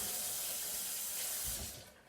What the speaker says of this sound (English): Gonna wash my hands here real quick.